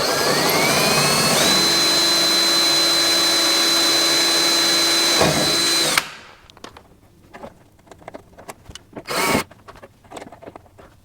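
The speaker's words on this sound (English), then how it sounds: "Put that in there to hold it in place while I drill the next one" A loud power drill whines steadily for several seconds drilling a fiberglass rear body panel on a GT40 kit car, then cuts off, leaving quiet handling clatter and a brief burst of noise.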